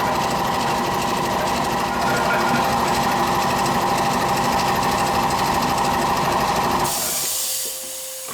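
A 3.7 hp dual-stage, 175 PSI belt-driven air compressor runs loud and steady with a dense mechanical clatter, then cuts off near the end, leaving a short lower tail.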